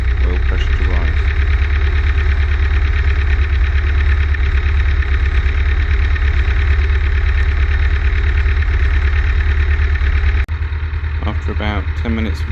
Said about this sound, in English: Wait for the engine to warm up and the oil pressure to rise.